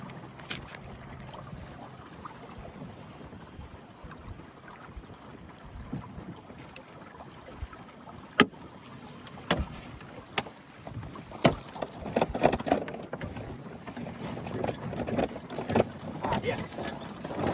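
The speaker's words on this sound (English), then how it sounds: "I was happy that I was able to successfully tack the boat and tighten up the jib at the same time." A small sailboat with a reefed sail and a jib heels over and moves through the water under way, with steady wash and wind buffeting the microphone, scattered creaks and knocks, and bursts of water noise toward the end.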